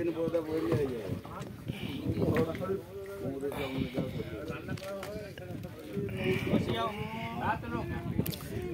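A boat on Chilika Lake, with water sloshing and wind buffeting around it, heard beneath near-continuous chatter from passengers on board.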